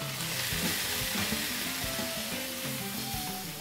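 Mushrooms fry in butter and onion in a pan, giving a steady close sizzle with soft scraping stir sounds now and then and no talking.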